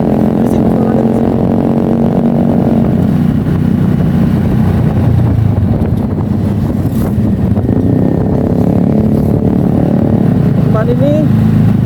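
Motorcycle engine hums steadily while riding through city streets in Yogyakarta, a continuous loud drone with wind rush, under almost constant talking from the rider.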